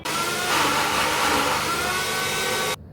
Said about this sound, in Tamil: இதை எல்லாத்தையுமே போட்டு நம்ம நல்லா அரைக்க போகிறோம்